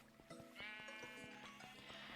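A Minecraft sheep bleats in a sheep farm, one drawn-out wavering bleat, faint but clear, over a soft repetitive mechanical clicking from hoppers.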